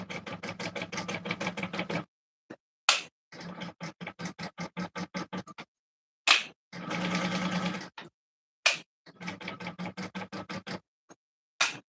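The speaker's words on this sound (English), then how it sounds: "open the card slots up and stitch down this side." A sewing machine stitches wallet card slots in bursts of rapid mechanical ticking, pausing between runs, with short clicks and fabric handling in the gaps and no voices.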